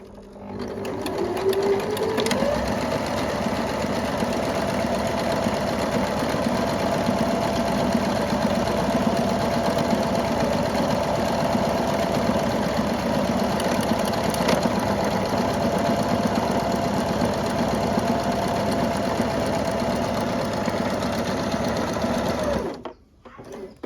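A Janome My Excel 18W sewing machine stitches a buttonhole, its motor and needle running in a loud, steady close-up whir for over twenty seconds before stopping with a click.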